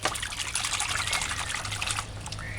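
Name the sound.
running water rinsing mushrooms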